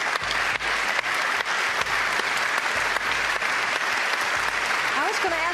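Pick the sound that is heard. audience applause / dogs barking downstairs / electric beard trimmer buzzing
audience applause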